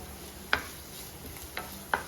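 Chopped onion for Kerala-style mulaku chammanthi sautéing in a pan, a steady soft sizzle broken by three sharp scrapes of a spoon stirring against the metal, close and with no voices.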